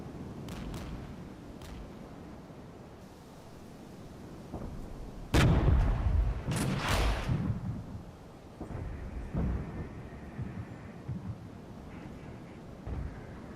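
Mortar fire in the Regiments war game, with a cluster of loud, heavy thuds in the middle of the stretch and scattered fainter booms around them over a low rumble of battle.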